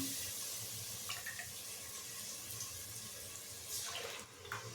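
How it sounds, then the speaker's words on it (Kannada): Water is poured into a hot pan of fried masala with coriander powder while making khushka rice, a steady close splashing hiss that runs for several seconds with no voices. "ಸ್ವಲ್ಪ ನೀರು ಹಾಕ್ಕೊಂಡ್ಬಿಟ್ಟು ಹಾಕ್ತೀನಿ."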